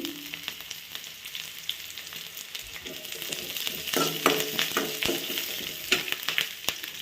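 Garlic sizzles in a pan while red chutney is cooked, a soft steady frying crackle with scattered stirring clicks that grows a little busier partway through.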